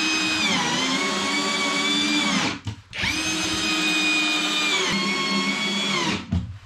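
A power drill with a 10 mm bit countersinks screw holes in a wooden frame, giving two long, loud, close whining runs with a short stop near the middle and another brief dip near the end.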